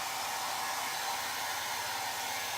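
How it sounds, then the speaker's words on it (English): A hair dryer blows in a steady, close-up rush of air at a constant level. "Hair dryer works perfect."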